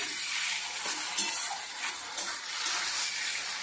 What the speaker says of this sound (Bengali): কচুর শাক খুব ভালো করে ভাজা ভাজা করে নিতে হবে, জল যেন না থাকে